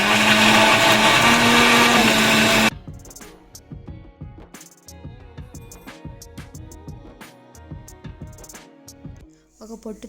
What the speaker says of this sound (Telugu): రెండు టమోటాలు, ఒక ఆనియన్ ముక్కల్ని మిక్సీలో వేసి పేస్ట్ చేసి పెట్టుకున్నా